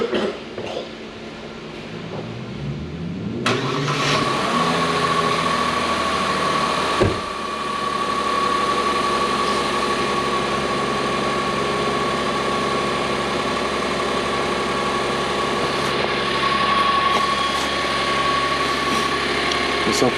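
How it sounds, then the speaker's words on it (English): A 2022 Genesis GV70 with a misfire cranks briefly and starts, then settles into a steady, close engine idle with a constant hum that runs to the end. "I'm gonna record the scope and start the vehicle."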